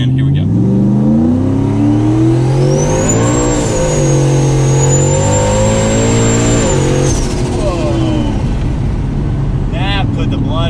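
A 1,000 HP turbocharged Ford Mustang GT accelerates hard, its engine note climbing steadily in pitch with a high turbo whine riding above it, loud and close from inside the cabin, easing off near the end as a voice speaks.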